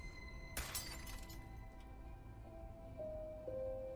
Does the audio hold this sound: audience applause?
no